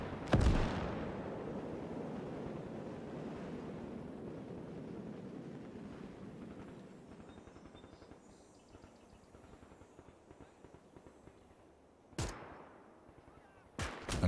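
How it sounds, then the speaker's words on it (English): Mortar and artillery fire in the WWII strategy game Call to Arms - Gates of Hell: a heavy blast opens, and a long rumbling roll of distant shelling follows, with sharp cracks of further impacts near the end. "their mortars are putting in work on that poor infantry squad that first spawned"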